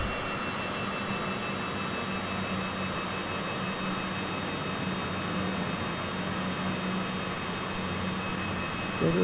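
Cockpit noise of a Citation CJ4 business jet during landing practice around San Francisco Bay: a steady, loud engine roar and airflow hiss with faint tonal whines, constant throughout.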